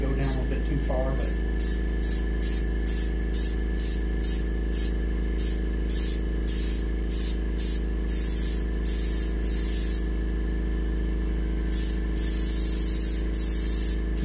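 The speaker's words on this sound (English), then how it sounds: "I may have actually let my overspray go down a little bit too far" An airbrush spraying yellow ochre paint onto a muskie taxidermy fish hisses in rapid short bursts over a constant compressor hum, with a brief bit of talk at the start.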